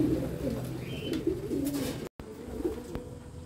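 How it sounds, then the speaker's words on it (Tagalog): Pigeons coo and call noisily around a loft as birds arrive, a steady layered burbling chorus close by, with brief chirps and a short dropout midway. "Ganyan pag may nadating na ibon. Maingay."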